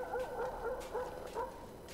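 Stray dogs yip and bark down by a river below wooded hills near an abandoned dam. The barks are faint and distant, coming in short repeated bursts.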